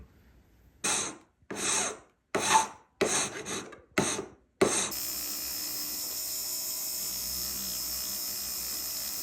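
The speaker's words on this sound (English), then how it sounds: "we can file the outside and then start sanding it" Hand filing across the outside of a freshly resized metal ring: about five short rasping strokes with pauses between them, then a steady, faint hiss of hum and workshop noise for the rest of the time.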